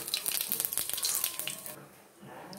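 Dry red chillies, a bay leaf and cumin seeds hit hot oil, giving a loud, close crackling sizzle with sharp pops that settles into a softer hiss near the end.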